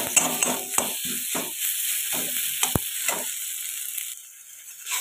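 Ground cumin, turmeric and chili powder fry in a pan for a fresh fish curry while a spoon stirs through them, making rhythmic scraping strokes over a loud, continuous sizzle.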